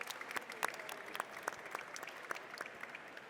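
A conference audience applauding, with steady, fairly faint clapping from many hands that carries on evenly for a few seconds, with no voices over it.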